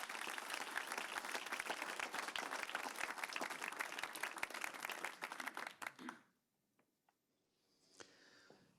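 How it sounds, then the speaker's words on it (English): Audience applause following a panel discussion on the future of capitalism, dense and steady clapping for about six seconds before it abruptly dies away into near silence, with a faint bit of sound near the end. "they do deserve a round of applause"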